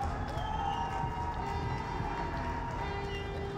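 A large crowd at the Gamescom 2017 live stream cheers and roars in a steady, continuous wash of voices, the noise evenly loud throughout with no single voice standing out.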